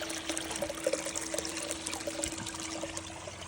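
Water runs steadily through a Dream Mat power sluice fed by a small pump and header box, a soft, even trickling flow close by with no one talking.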